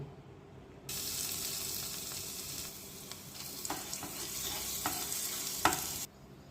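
Crushed garlic hits hot oil with sesame seeds and curry leaves for a Gujarati potato curry, bursting into a loud sizzle that is stirred with a few scraping clacks before fading.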